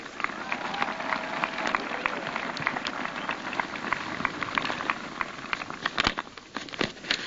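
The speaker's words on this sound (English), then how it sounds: "Let's give them a round of applause, please" A large outdoor audience at a 2015 high school graduation ceremony applauds, a continuous crackle of many hands with sharper individual claps standing out, heard from a distance and moderately faint.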